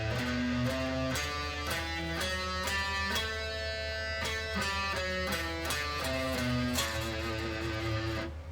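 An A Dorian scale played note by note on a sustained, harmonically rich instrument, each pitch ringing clearly in steady succession over a constant low drone, with no talking.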